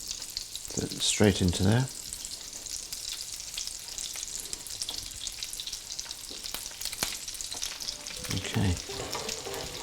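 Crab cakes sizzle steadily in melted butter in a pan. The frying is close and continuous, with a short stretch of talk near the start and a brief word near the end.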